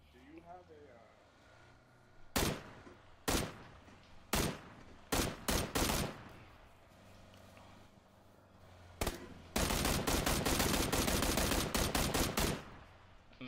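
PUBG gunfire from a player emptying the ammo: several separate sharp shots, then a long rapid-fire burst, loud against a quiet background with some talk.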